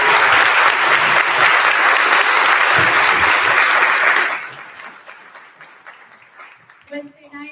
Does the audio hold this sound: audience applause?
yes